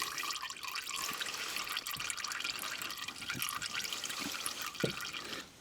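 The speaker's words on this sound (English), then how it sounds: "So we'll let that finish draining" Engine oil draining from the sump of an SJ Subaru Forester XT, a faint steady trickle with occasional drips landing in a pan, heard quietly at close range.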